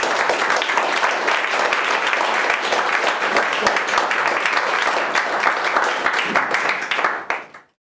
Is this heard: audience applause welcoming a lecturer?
yes